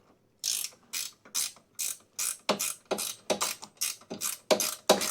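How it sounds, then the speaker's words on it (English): A ratchet wrench clicks in a steady series of about a dozen sharp, close strokes while working on a Toro TimeMaster mower's belt area, each pull giving a rasping burst. "I don't think my ratchet has enough room to be able to let me bring it all the way up"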